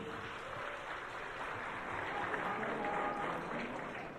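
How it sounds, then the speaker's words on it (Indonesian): An audience applauds at the National Governance Awards 2026 ceremony, a steady, dense wash of many hands clapping that holds evenly for several seconds at a modest distance. "Tepuk tangan buat Metro TV."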